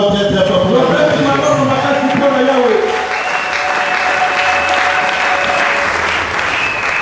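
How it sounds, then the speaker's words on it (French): A church congregation applauds loudly during a French-language service, a dense, sustained clapping that gradually thins and softens toward the end. "Acclamons encore très très fort pour la gloire de Dieu"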